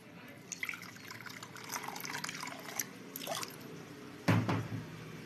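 Water pours and splashes into a bowl of karasev flour mix, a soft trickling stream followed by a fuller gush near the end, close up with no talking.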